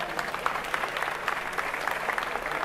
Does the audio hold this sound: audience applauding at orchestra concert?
yes